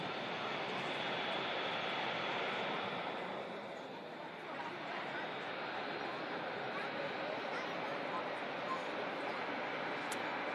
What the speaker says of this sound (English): the A380 taxiing pass any time now as well